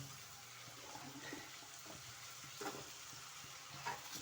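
Chopped cauliflower stalks and other vegetables go into a hot pan, giving a low, steady sizzle with faint stirring scrapes and small clatters, quiet and close, with no talk.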